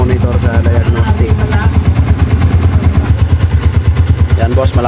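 A Yamaha Sniper 150 motorcycle engine idles close by in a steady, rapid putter while warming up toward temperature during an overheating fix, loud and rhythmic throughout.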